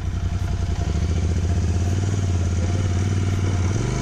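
Royal Enfield Continental GT motorcycle riding uphill in third gear, its engine a steady, loud, deep thumping drone that holds even and then rises slightly in pitch near the end.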